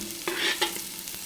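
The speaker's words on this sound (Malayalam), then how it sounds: "ഗരം മസാല നന്നായിട്ട് മിക്സ് ചെയ്യുക" Garam masala being stirred into a paneer butter masala curry, a spoon scraping through thick gravy in a few short strokes over a faint sizzle, close and fairly quiet.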